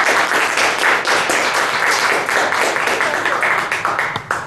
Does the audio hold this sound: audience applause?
yes